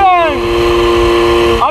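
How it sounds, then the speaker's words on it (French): A 50cc MBK 51 Magnum scooter engine with an air intake box revs near the microphone, its pitch falling and then holding steady, with a brief blip of throttle at the end. "le bruit de scoot, tu sais, avec les Venturi, ça fait vraiment un bruit de"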